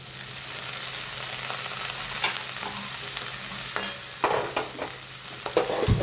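Cabbage drops into hot oil seasoned with turmeric, red chilli, coriander-cumin powder and salt, giving a soft steady sizzle with several louder bursts of stirring and clattering toward the end.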